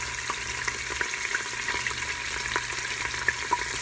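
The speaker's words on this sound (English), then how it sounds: "Can you hear it sizzling?" Pork loin browns in a pressure cooker with a steady, close sizzle and scattered pops and crackles that go on evenly throughout, with no talking.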